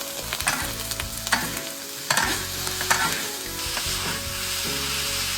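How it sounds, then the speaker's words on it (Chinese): Old ginger, onion, spices and ox penis hiss and crackle in hot oil in an iron wok over a rural wood fire, with repeated scraping and tossing strokes of a spatula, close and lively. "油热以后下老姜、洋葱，下入香料， 炒出香料味，下入牛鞭"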